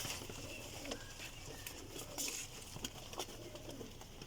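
Pigeons kept for sale at a breeder's loft give soft, low coos that blend into a faint, busy background, quiet and somewhat distant.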